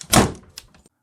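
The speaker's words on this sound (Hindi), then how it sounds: "दरवाजा अपने आप बंद हो गया।" A door shutting by itself in a haunted hospital ward, one quick thud with a short rattle that dies away within a second.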